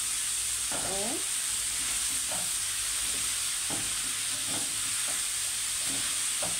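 Alexandrian-style liver frying in a pan with red peppers, green bell peppers and hot peppers, a steady close sizzle with scattered stirring scrapes and clinks throughout.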